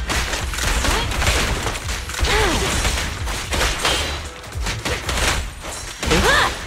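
Rapid gunfire in the video game Zenless Zone Zero, bursts of shots and thuds filling the whole stretch with game music and effects, dense and loud throughout.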